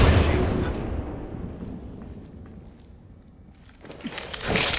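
A grenade explodes in the Apex Legends battle royale shooter: a loud, close blast opens the moment and decays into a long rumbling tail, and a second burst of noise rises near the end.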